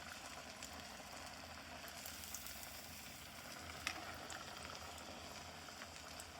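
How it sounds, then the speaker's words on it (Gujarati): Aloo tikki fry in hot oil with a steady, faint sizzle and fine crackle that hardly changes, one small pop partway through. "આપણે કમ્પ્લીટલી ફ્રાય થવા દેવાની છે. અને તેલ મિત્રો થોડું વધારે ગરમ રાખવાનું."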